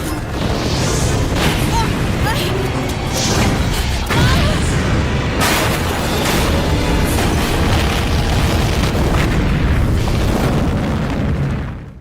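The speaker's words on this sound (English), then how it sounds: "Holy fucking shit, that's a massive explosion." A gas station blows up in the Resident Evil 3 video game, setting off a huge, sustained roar of blasts and crashing debris that stays loud and rumbling for the whole stretch, with repeated bursts on top.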